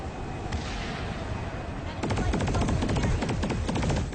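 Rapid bursts from the Serpent weapon in the sci-fi shooter PlanetSide 2, a dense rattling volley of close, loud shots that kicks in after a quieter stretch of ambient battle noise and keeps hammering to the end.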